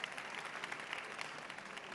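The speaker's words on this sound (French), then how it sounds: "Ça s'applaudit." A seated audience at a French panel discussion applauds, a steady, even wash of many hands clapping at moderate distance, with no voices over it.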